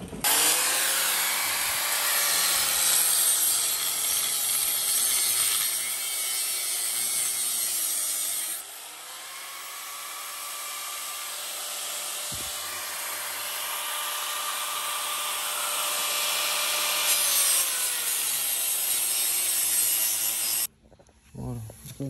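Cutting material for a custom center console in a BMW E36 320i, a steady rasping saw-like stroke that rises and falls in pitch over about twenty seconds, loud and close, with a brief pause midway and no talk.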